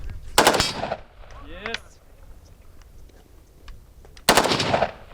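Two loud, close bursts of automatic rifle fire at a youth shooting training session in Boryspil, each a rapid volley, with quieter clicks and a brief voice between them.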